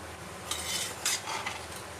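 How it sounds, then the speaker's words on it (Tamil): Stirring salted olan, the Kerala curry with yellow pumpkin, in a pot: soft scraping strokes with a few brighter spoon scrapes, close and steady over low background hiss. "உப்பு போட்ட பின்ன நல்லா மிக்ஸ் பண்ணி விட்டுடலாம்."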